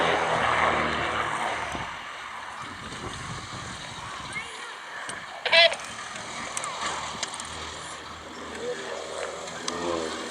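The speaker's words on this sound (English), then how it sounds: "These pits are powered through the sky by Wyoming IO540 engines" A Pitts aerobatic biplane with a 260-horsepower Lycoming IO-540 engine performing tight loops at the East Kirkby airshow in Lincolnshire, heard as a steady distant engine drone under an announcer's commentary and crowd noise.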